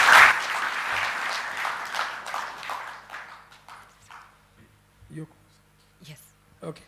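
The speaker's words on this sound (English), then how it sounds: "A round of applause for that particular session." Applause from an audience at a bank's half-year financial results presentation starts loud and gradually fades over several seconds, leaving scattered claps and faint room noise.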